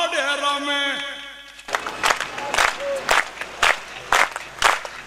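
A singing voice gives way to an audience at a Gujarati devotional folk gathering clapping along in a steady, loud rhythm with no music, sharp unison claps roughly twice a second.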